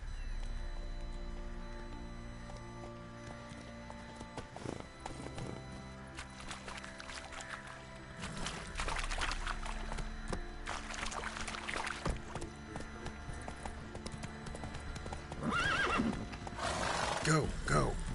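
Horse neighing and whinnying in The Witcher 3 while watering horses, with clip-clop hooves and splashing water, under ongoing talk.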